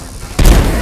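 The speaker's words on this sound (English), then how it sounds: "Away from the explosion!" An explosion goes off in the video game Dishonored: The Knife of Dunwall, a sudden loud, deep boom that cuts in and rumbles on to the end of the moment.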